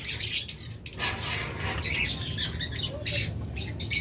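Lovebirds squawk in short, shrill bursts and chirps, several calls overlapping in quick succession close by.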